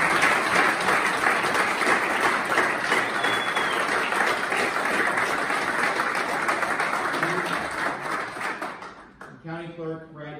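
A crowd claps loudly and steadily for several seconds before the applause fades out and a voice begins speaking.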